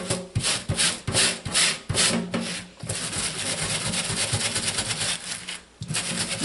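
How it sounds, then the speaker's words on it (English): A stained Under Armour shirt is scrubbed with coconut oil liquid soap, giving rhythmic rough rubbing strokes, at first in distinct bursts and then as a dense, continuous close-up scratching. "I'm just going to scrub back over it since it's been sitting"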